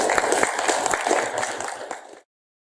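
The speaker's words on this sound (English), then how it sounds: "Give him a big round of applause, Luke Benson." A room of listeners gives a short burst of clapping for a speaker, close and even, tapering off before cutting to silence after about two seconds.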